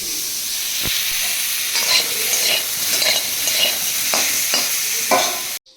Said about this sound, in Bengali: এবার এখানে কড়ায় শুকনো লঙ্কা, তেজপাতা, জিরে ফোড়ন দিয়েছি